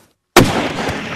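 A single rifle shot at a bear on a spot-and-stalk hunt cracks out of silence, loud and close, then trails off in a rolling echo.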